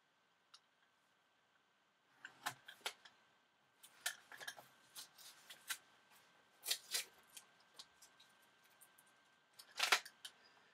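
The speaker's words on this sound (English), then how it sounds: "let me just cut that with the knife first" Knife cutting through tape on a watercolour painting of Eilean Donan Castle, heard as a run of close, dry clicks, snips and scratchy strokes in irregular bursts, starting after a short quiet spell and ending with a sharper cluster.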